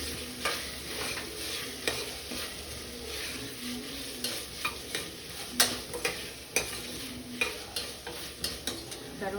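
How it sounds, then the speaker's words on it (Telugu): Tomatoes and fenugreek leaves frying in a pan for paneer biryani, mashed with a spoon: a soft steady sizzle runs beneath repeated light scraping and tapping strokes, close and fairly quiet. "లేదు తొందరగా కావాలంటే మనం స్పూన్తో ఇలా కూడా చేసుకోవచ్చు"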